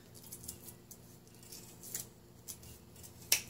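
Scissors cut 1-inch tape in half with several quiet, crisp snips at irregular intervals, close up, the last snip sharper and louder, with no talking.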